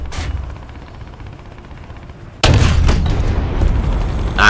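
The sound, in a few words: tank cannon firing HE shell in War Thunder video game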